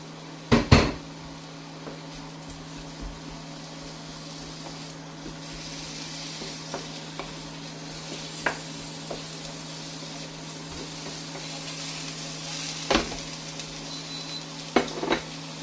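Onion sautéing in vegetable oil in a hot wok over high heat, a quiet steady sizzle under a constant hum, broken by a sharp clatter at the start and occasional knocks of stirring.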